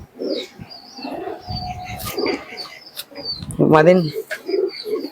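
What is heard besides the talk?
pigeons cooing at seller's loft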